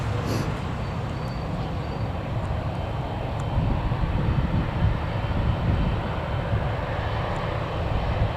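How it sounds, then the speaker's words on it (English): An Embraer jet taxis along runway 25 at Newcastle Airport, its engines giving a steady, broad rumbling roar that swells slightly midway and holds without talk. "So that Embraer aircraft is on the runway now, taxiing down to the bottom of runway 25"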